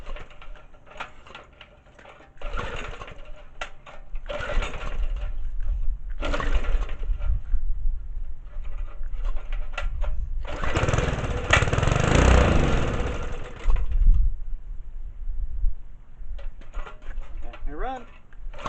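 A tiller engine fitted with a brand new carburetor, choke on, cranks in repeated bursts, then catches and runs loud and rough for a few seconds before fading, with sputters near the end.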